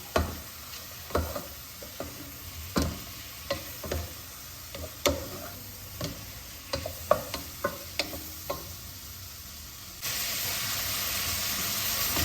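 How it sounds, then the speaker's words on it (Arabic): Chicken breast with ginger being stirred in a hot pan: a soft background sizzle under a string of sharp utensil scrapes and taps at irregular intervals, with the frying hiss growing louder near the end. "شويه الزنجبيل، غنحركو مزيان"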